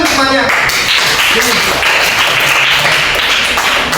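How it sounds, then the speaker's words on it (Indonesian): Classroom applause for a group of students called up to the front, a dense, steady wash of many hands clapping throughout, with voices mixed in underneath. "Berikan tepuk tangan untuk semuanya."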